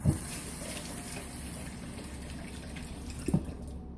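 Tap water runs steadily over a peeled onion in a kitchen sink, a close and constant gush with a couple of brief splashy bumps toward the end.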